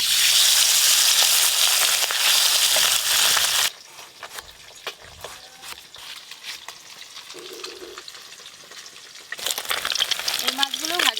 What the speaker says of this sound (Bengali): যা মাছ আছে একবারেই সব ভাজা হয়ে যাবে।